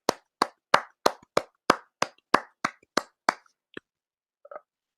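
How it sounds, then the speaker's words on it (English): About eleven sharp hand claps ring out close and isolated at a steady rhythm, followed by a couple of faint, scattered taps before quiet. "let's give Tony a round of applause for that, man"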